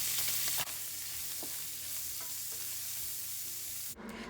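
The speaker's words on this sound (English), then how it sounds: "Then start searing off my shrimp." Shrimp searing in hot oil in a pan for Chinese fried rice, a loud, dense, continuous sizzle up close that cuts off briefly near the start and flares again at the end.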